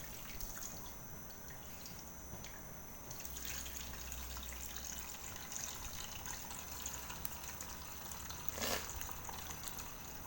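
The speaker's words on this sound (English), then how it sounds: "And let the water go out first." Water trickles and drips steadily against a low background hiss, with one brief louder splash near the end; no one speaks.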